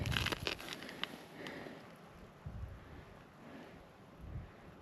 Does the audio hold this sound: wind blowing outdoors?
yes